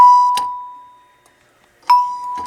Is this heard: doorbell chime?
yes